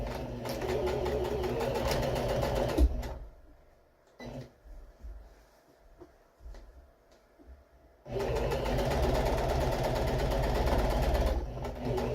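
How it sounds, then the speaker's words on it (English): Sewing machine stitching couch cover fabric half an inch from the edge, running loud and steady, pausing for a few seconds with light handling noises, then resuming its continuous whir. "I'm stitching in about 1/2 inch from the edge here"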